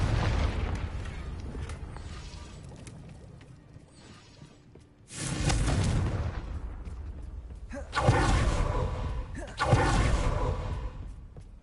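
Blasting-spell explosions in Hogwarts Legacy, with several loud booming bursts in quick succession after a quieter stretch, each one ending in a rumbling tail.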